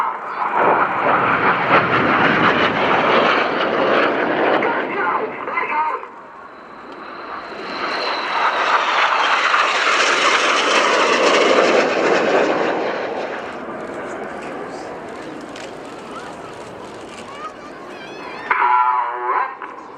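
Red Arrows jets roar past at an airshow at RAF Fairford in 2018, the loud engine noise swelling, fading and surging again as the formation splits and the synchro pair passes low, with no voices in between.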